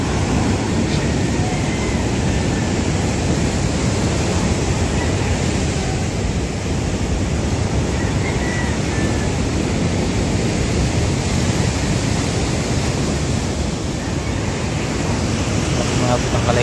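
Large ocean waves break steadily on a beach, a loud continuous roar of surf mixed with wind noise on the microphone.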